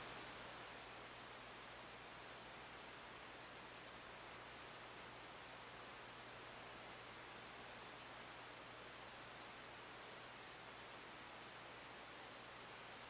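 A steady, faint airy whir of a small cooling fan in a 2012 Samsung Series 9 NT900X3B-A74 laptop in normal fan mode, around 42.6 dB, continuous and even with a low hum underneath and nothing else.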